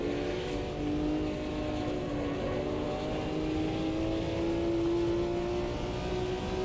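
BMW M1 Procar race car in Automobilista 2 with a loud, steady engine drone that holds a high rev note and climbs gradually as it accelerates, with no pauses across the run.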